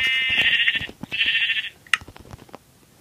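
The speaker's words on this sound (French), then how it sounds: "il y a des moutons gris" Two drawn-out bleats from a Minecraft sheep, electronic and uniform, followed by scattered soft clicks and taps.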